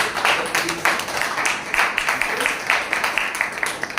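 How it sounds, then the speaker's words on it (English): An audience at a Toastmasters panel discussion applauds a panelist, a dense run of rapid, uneven clapping that carries on steadily throughout at close range. "So big round of applause for our first panelist."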